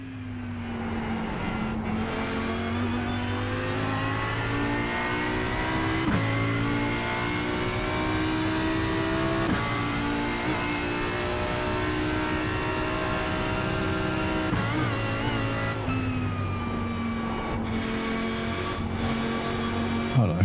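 Car engine in a racing sim video game played on a Fanatec Clubsport DD wheel, revving hard and rising through the gears with brief dips at each shift, loud and continuous.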